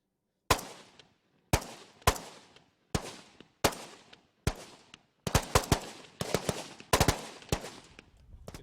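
Rifles fire single shots at an army shooting range, with sharp cracks first spaced about a second apart and then coming faster and overlapping as several shooters fire, each crack followed by a short echo.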